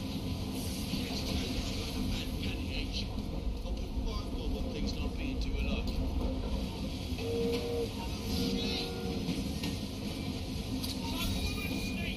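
Train rolling along and slowing in Assassin's Creed Syndicate, a steady rumbling clatter with hiss and occasional squeal, sustained throughout with faint background voices.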